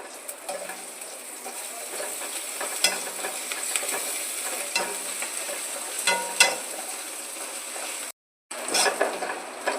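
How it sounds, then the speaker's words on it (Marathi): Crushed green chili thecha and coriander are stir-fried with softened tomato in a pan, giving a steady sizzle broken by repeated spatula scrapes and metal clinks, with a brief silent gap near the end. "चांगलं परतून घेतलंय ठेचा कोथिंबीर पण।"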